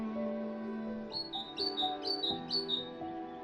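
Cartoon birds chirp and squawk in a forest in a Snow White story, a few repeated bright calls sitting over a steady background of sustained music tones.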